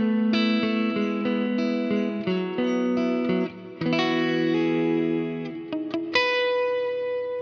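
An electric guitar played through a Line 6 POD HD500X with a strong reverb rings out in sustained, clean chords and single notes, each decaying into a wide, washing tail, loud and alone without talk.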